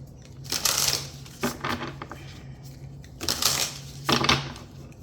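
Brisk bursts of tarot cards being shuffled, riffling in a few quick rounds with short pauses between them, close and clear.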